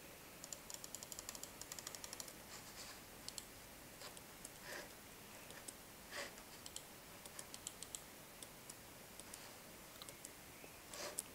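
A computer mouse clicking rapidly in irregular bursts during gameplay, crisp and close but quiet, with short pauses between runs of clicks.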